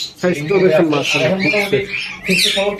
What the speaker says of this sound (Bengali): ইন্ডিয়ান রিংনেট গ্রিন কালারের মেল পাখি।